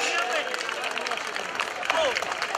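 Audience clapping and cheering at a live Celtic Transilvania Festival concert in Târgu Mureș, a dense, steady wash of applause and crowd noise running throughout, with cheering voices mixed in.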